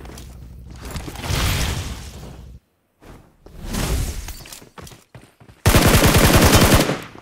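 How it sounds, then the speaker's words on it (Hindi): Gunfire in the PUBG battle royale game comes in rapid automatic bursts, a few separated by short gaps and ending in a loud, sustained volley of close shots. "इसके बाद आगे से बहुत गजब की फायरिंग आती है, फायरिंग आती यहाँ पे देखो"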